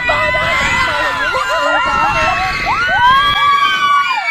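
Riders scream on a Vikings swinging ship amusement ride, many high wavering shrieks rising and falling together in a dense, loud chorus that swells in waves throughout.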